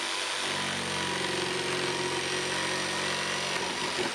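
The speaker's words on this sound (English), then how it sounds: "I use a 3-inch hole saw with the 6-inch PVC." A 3-inch hole saw on a power drill cuts into 6-inch PVC pipe, making a steady, close, grinding whine that runs for a few seconds without a break.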